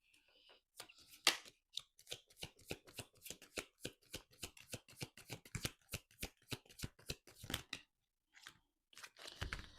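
A deck of oracle cards is shuffled up close in quiet surroundings. Crisp slapping and riffling clicks come in a quick, steady rhythm for several seconds, then a short pause and a final rustle.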